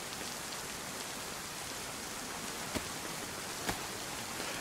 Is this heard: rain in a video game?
yes